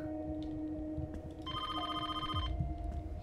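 A telephone in a hotel horror video game rings once with a bright, buzzy electronic trill lasting about a second, heard over a low droning game ambience.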